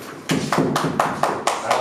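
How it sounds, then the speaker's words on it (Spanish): Sharp, evenly spaced claps from a small audience welcoming a volunteer at a magic show, about seven close hand slaps in a steady rhythm with no talk over them. "Sube Iván, un aplauso para Iván."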